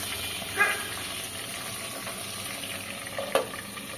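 Steady sizzling hiss of tangra fish frying in hot oil over raised heat, with a couple of brief clinks or pops standing out near the start and end.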